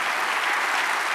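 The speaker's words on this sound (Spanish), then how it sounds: "Dale otro aplauso al Señor" A dense burst of applause from a church congregation, loud and continuous throughout, with no pause or voices standing out.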